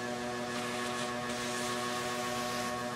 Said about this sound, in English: Good old vacuum cleaner.